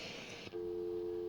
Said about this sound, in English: there's our dial tone